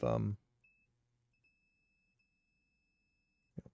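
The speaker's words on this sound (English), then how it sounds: "You should hear this beep" A faint thin tone from a continuity tester on a tech bench sounds twice, briefly after a short burst of speech, then a longer steady beep, with a soft knock at the end.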